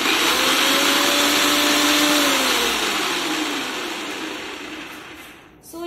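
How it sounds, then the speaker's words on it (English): A Preethi vegetable chopper on a mixer grinder whirs at speed 1 while chopping green chilies, a loud close motor drone with falling pitch that winds down and stops near the end. "You can use speed 1 to chop green chili."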